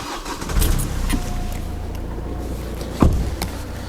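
Car engine cranking and catching, then running at a steady idle with a low hum, a sharp clunk partway through, no talking.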